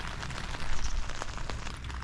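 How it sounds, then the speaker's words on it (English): Rain falls in the dark around 4 a.m. on a motorbike trip from Germany into the Czech Republic: a steady, dense hiss with scattered soft taps, close by and without speech. "Can you hear the rain?"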